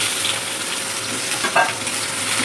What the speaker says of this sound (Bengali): আলুগুলো এক এক করে ছেড়ে গরম তেলে এক এক করে আলুগুলো ছেড়ে দেওয়া হলো